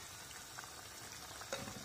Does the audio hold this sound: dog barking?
no